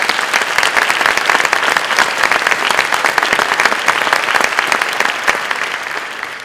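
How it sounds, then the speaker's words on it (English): Loud, dense round of audience applause for a visiting school principal, many hands clapping continuously at close range, holding steady and tapering slightly at the very end. "Let's give him another round of applause."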